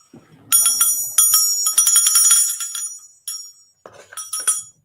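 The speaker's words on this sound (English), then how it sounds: "we rang the bell" A hand bell rung during a relaxed live hangout session, bright metallic ringing in several shaken bursts with short pauses between, close and fairly loud, alone without talk.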